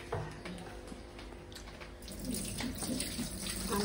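Tap water runs steadily into a kitchen sink as water is drained from sliced bitter melon, a continuous splashing wash under faint background sounds.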